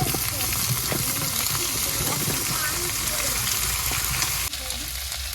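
Shrimp, potatoes and okra fry together in a pan with a dense, continuous sizzle, with light scrapes and taps from stirring throughout.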